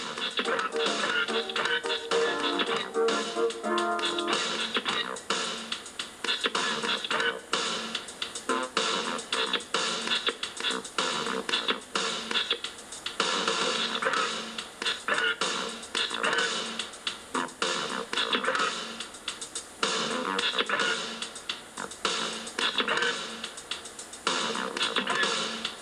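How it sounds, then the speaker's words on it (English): DJ turntable scratching runs over a steady music beat, with choppy, rapid bursts and stutters throughout, loud and continuous with no talking. "Peep this while I scratch the beat."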